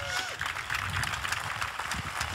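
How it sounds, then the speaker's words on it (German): Studio audience applause for violinist David Garrett on an outdoor German TV variety show, a dense continuous wash of clapping with crowd murmur and a faint voice mixed in. "Großen Applaus für David Garrett"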